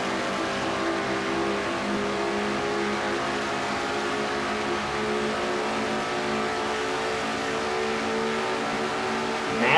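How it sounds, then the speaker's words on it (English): Race car engine from a NASCAR-style stock car racing video game, an onboard view of car number 12 in a 400-lap Castrol GTX Cup event, droning steadily at high revs throughout with a dense, constant roar and no talk. "On board with Johnny Gardner in car number 12"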